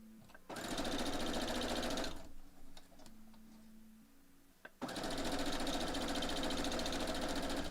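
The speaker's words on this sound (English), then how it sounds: "I know that I'm going to be sewing these strips faster than everyone else" A sewing machine stitches quilt strips for a pixel quilt block in two loud, fast bursts of rapid mechanical chattering, separated by a quieter pause with small clicks and handling noises.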